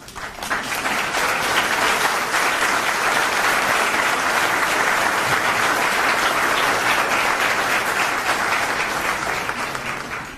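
Steady, full applause from the crowd at a Tyler ISD school board meeting as campus principals stand to be recognised, sustained and even for about ten seconds with no talk over it.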